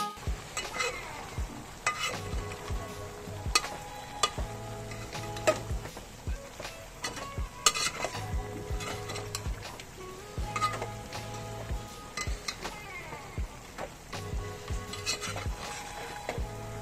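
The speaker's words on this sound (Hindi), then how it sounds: "आपको गोश्त को अच्छे से मिलाते रहना है" Meat curry with turmeric, salt and red chili powder being stirred in a pan, a spoon scraping and clinking repeatedly over a soft continuous sizzle, close and fairly quiet with no talk.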